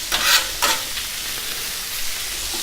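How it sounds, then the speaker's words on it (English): Peppers and onions frying in a pan over a flame, with a steady soft sizzle and two brief scraping stirs near the start, close and alone. "these peppers and onions are really sweated down pretty good"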